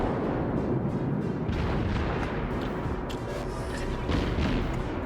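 Heavy naval gun salvo fired by a warship in World of Warships, a dense sustained roar of booming blasts, loud and continuous throughout with no talking over it.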